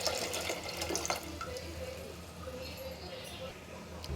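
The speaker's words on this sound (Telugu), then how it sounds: "ఇందులో సరిపడిన వాటర్ వేసుకుంటున్నాను." Water pours from a tap into a pressure cooker holding lentils, a close, splashing flow that is strongest at first and then settles into a softer, steady trickle.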